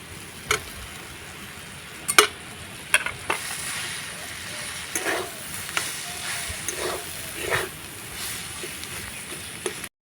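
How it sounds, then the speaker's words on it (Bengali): Vegetables stir-fried with spices in a pan for a breakfast snack, a continuous close sizzle with repeated spatula scrapes and clinks at irregular intervals. "মশলার সঙ্গে সবজিটাকে ভালো করে কষিয়ে নিব"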